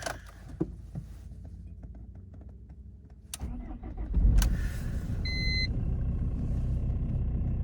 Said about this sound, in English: Cold start on the BMW.